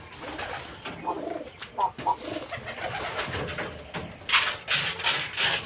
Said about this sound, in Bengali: একদম পুরো দেশাল কবুতর।